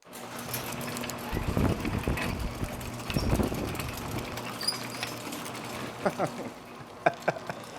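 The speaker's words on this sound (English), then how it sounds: "the garage door on my house is even worse. It's rattly, and it's worse when the winds are stronger." A loose metal garage door rattles and clanks irregularly in the wind, with bursts of clattering under steady background noise, close and moderately loud.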